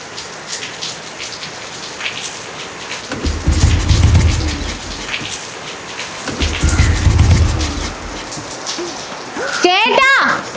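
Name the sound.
rain falling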